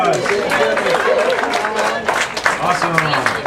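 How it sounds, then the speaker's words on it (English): Audience at an anti-aging and detox event giving a round of applause, dense clapping mixed with loud chatter and cheering voices throughout. "Give yourselves a round of applause."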